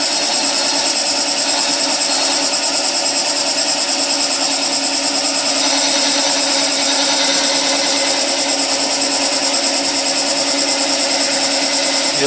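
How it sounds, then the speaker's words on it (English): Wood lathe with a turning tool making a planing cut along spinning wood, giving a steady, loud broadband hiss and whir with a constant tonal hum, continuous throughout and without talk. "So I'm going to make a planing cut going that way"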